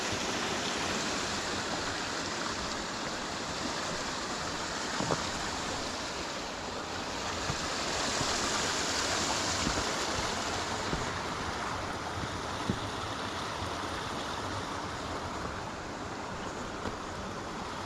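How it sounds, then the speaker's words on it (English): A fast-running brook swollen by heavy rain, near the River Wansbeck, rushes steadily and loudly throughout, a continuous broad wash of flowing water with no voices. "the little brook that comes down from the right"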